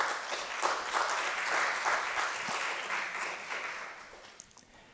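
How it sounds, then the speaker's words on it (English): Audience applause for the participants at a secondary schools debate final, dense steady clapping filling the room for several seconds before tapering off near the end. "So let us give all the participants a big round of applause."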